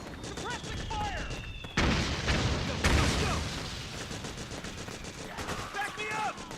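Sustained gunfire and explosions in Metal Gear Solid 4: Guns of the Patriots, loud crashing bursts over battlefield noise, with shouted voices and radio chatter around the shots.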